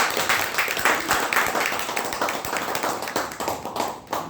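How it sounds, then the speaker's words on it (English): A Toastmasters club meeting audience gives a round of applause to welcome a speaker, steady clapping from many hands with some distinct nearby claps, moderate loudness and continuous throughout. "So let's all, with a thunderous round of applause, welcome distinguished Toastmaster Arundhati Basu."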